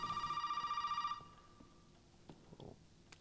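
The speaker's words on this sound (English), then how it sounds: "Another phone call from Zoe" A telephone rings in the horror video game Resident Evil 7: Biohazard, a rapid electronic trill repeating for about a second before cutting off, followed by quiet game ambience and a few soft thumps.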